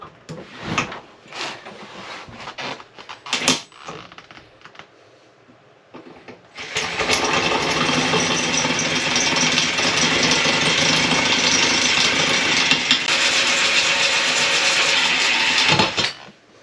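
A power drill cuts off a stuck cap, starting after a few seconds of clicks and handling knocks and then running as a loud, steady whine and grind for about ten seconds before stopping.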